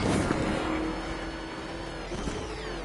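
A car in the video game Batman: Arkham Knight drives at speed, its engine a steady loud drone with broadband road rumble throughout, holding fairly constant with slight swells.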